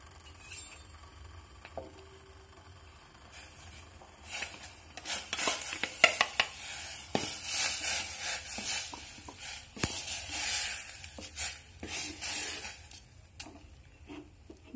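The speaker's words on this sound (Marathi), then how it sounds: "पीठ मिक्स करून घेऊया।" Flour is stirred into just-boiled water in a pot, starting quietly and then turning into a busy run of scraping, knocking and faint sizzling from the spoon against the metal.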